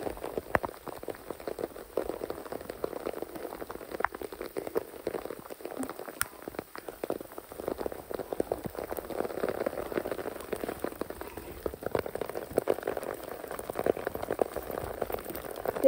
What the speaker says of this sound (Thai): ฝนตกแรงมากนะทุกคน